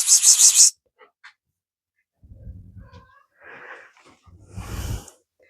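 Young kittens on a farm give a few faint, high mewing and wheezy squeaks between short gaps, with louder sniffing or rustling bursts nearby, no talk heard.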